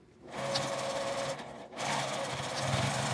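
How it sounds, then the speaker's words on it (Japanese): A sewing machine stitches a fabric strap with a 1 cm seam allowance while making a baby backpack, a rapid steady whirring at moderate distance that pauses briefly midway and then resumes. "ここを1センチの縫い代で縫います"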